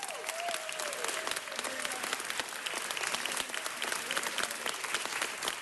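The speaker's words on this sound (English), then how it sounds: "Give her a round of applause" A crowd at a city council meeting claps warmly and steadily throughout, a dense, sustained ovation with some voices and cheers mixed in beneath it.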